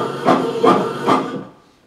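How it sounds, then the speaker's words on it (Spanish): A printer, likely an office inkjet or laser model, prints in three quick mechanical bursts at a steady pulse, fairly close and alone, then falls silent. "Impresora."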